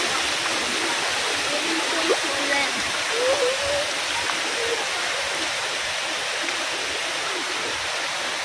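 Flood water rushing through a flooded neighborhood, a steady broadband roar like a torrent that stays constant throughout, with faint voices nearby.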